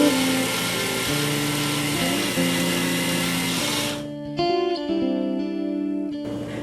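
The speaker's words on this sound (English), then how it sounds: "And I will simply drill in." A cordless screwdriver drills holes into a pressed-cane chair seat, its motor whining loud and steady through several sustained pitches, with pitch shifts as the bit bites and eases, then a shorter burst after a brief pause.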